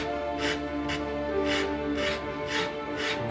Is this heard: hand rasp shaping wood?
yes